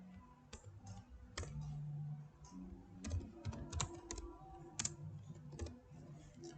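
Steady typing on a computer keyboard while HTML code is entered, a close run of irregular clicks and taps with brief pauses and a few louder keystrokes, alone and fairly quiet.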